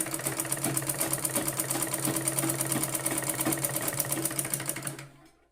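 A sewing machine stitches tucks on a blouse, its needle running in a fast, steady rhythmic chatter close by for about five seconds before stopping abruptly.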